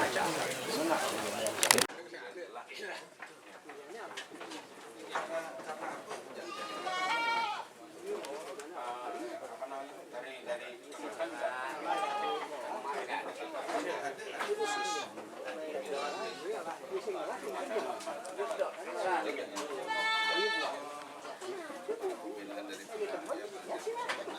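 Goats on a village livestock farm bleat repeatedly in short, wavering calls, some near and some farther off, over a constant hum of people talking and chattering in the background.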